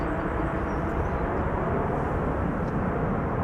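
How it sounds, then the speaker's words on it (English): Airliner applying thrust reversers after landing at Amsterdam Schiphol, a steady broad roar heard at a distance, faint and constant across the short stretch. "And the reversers are being applied there"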